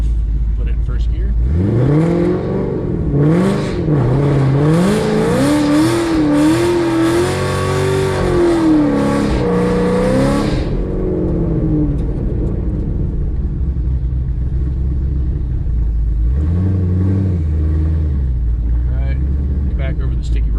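A 700 hp cammed Ford Shelby GT500 with Corsa exhaust and TVS supercharger revs hard on line lock, loud close engine roaring through rising and falling revs for about ten seconds, then idling with another brief rev near the end.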